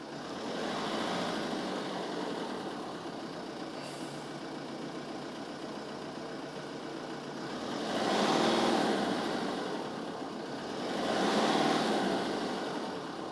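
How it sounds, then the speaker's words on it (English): A 2009 Renault Megane Cabriolet III with a poor-performance fault runs rough and labored, its engine note droning steadily and swelling twice in heavy surges as it struggles and chokes, heard close with no talking. "you hear the car choking."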